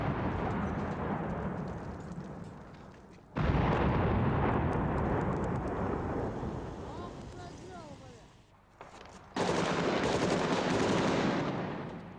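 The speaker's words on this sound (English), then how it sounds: "all President Yeltsin's troops were giving Grozny were mortars and shells and rockets" Mortar, shell and rocket fire during the 1995 Russian assault on Grozny, heard as loud, dense rumbling bursts and blasts with a sharp renewed barrage partway through and again near the end.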